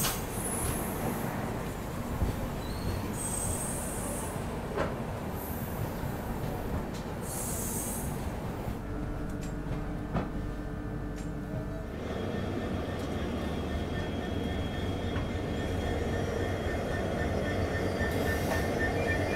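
The Kailash Bharat Gaurav AC deluxe tourist train runs on rails in Tamil Nadu, with a continuous rumble of wheels, squeals and clatter heard steadily from inside or close by.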